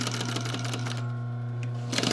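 A sewing machine stitching a seam on a wing chair slipcover, a steady rapid mechanical whir and clatter running close up, easing slightly near the end before picking up again.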